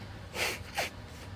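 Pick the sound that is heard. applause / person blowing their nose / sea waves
person blowing their nose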